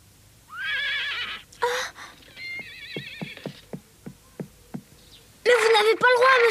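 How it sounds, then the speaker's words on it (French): A pony whinnies loudly and repeatedly amid hoof clip-clops, with buzzing insects, in a French animated series scene; several neighs open and close the passage, a steady run of hoofbeats between them. "Vous vous trompez, c'est le poney de mademoiselle Sarah"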